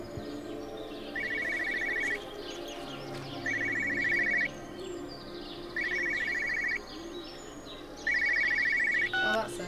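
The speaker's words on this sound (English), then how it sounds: "Phone's ringing." A telephone rings in the video game Everybody's Gone to the Rapture, four evenly spaced electronic bursts of trilling over a steady ambient bed of birdsong and background hum.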